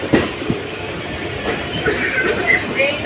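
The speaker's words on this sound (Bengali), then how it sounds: "আমরা এখন বেলুড় স্টেশন পার করছি।" A local train runs between Liluah and Belur stations out of Howrah, with a steady close rumble, rhythmic clicks and clacks of wheels over rail joints, and faint squeals in the background.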